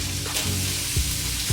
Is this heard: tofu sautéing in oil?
yes